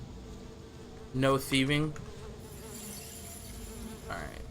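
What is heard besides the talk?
bees buzzing in the video game Sudeki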